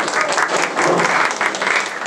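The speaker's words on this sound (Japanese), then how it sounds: "拍手でこの授業を終わりたいと思います" Brief, loud applause from a class closing a Japanese lecture on solving regional problems: a dense burst of clapping up close, with faint voices underneath.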